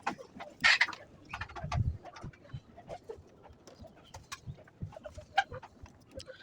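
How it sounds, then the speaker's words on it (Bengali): Hens cluck on a small poultry farm of local and farm-bred chickens, with soft scattered clucks and brief calls heard faintly at a distance over low background rustle. "এখানে সব মুরগিগুলা দেশি মুরগি আছে, ফার্মি মুরগি আছে"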